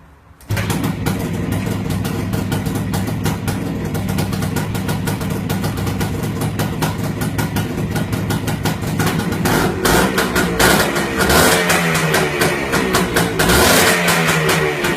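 A two-stroke engine with oil injection on a motorcycle starts and runs loudly and steadily near the microphone with a buzzing, uneven idle, then revs choppily in its final seconds.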